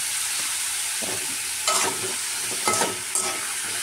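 Potatoes fry in a pan with a steady, close sizzle throughout, broken by a few brief, louder bursts of stirring or scraping.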